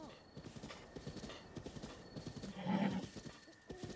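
A horse in Zelda: Breath of the Wild clip-clops in a quick steady rhythm of hoofbeats, then lets out a short whinny near the end, fairly close and clear.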